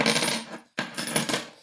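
Metal keys for a range of lock types, including American lock blanks, dropped onto a surface, making a bright metallic jangle in two close bursts separated by a short silent gap.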